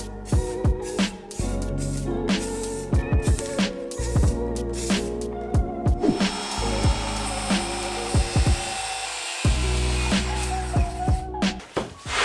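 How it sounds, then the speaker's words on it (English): A jigsaw fitted with a scroll blade cuts through MDF in repeated bursts, starting and stopping with short pauses, loud and near, with a sustained run in the middle. "Just make sure to use a scroll blade to get a nice smooth cut."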